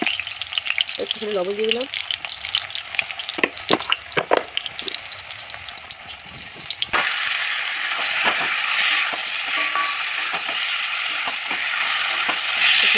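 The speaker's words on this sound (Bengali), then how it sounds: "তেল গরম হয়ে গেছে, এখন আলুগুলো দিয়ে দেবো। আলুগুলো একটুখানি ভেজে নিয়ে" Potatoes sizzle in hot oil in a pan, and a voice talks over clattering at first. A steady, loud frying hiss then takes over and continues without a break.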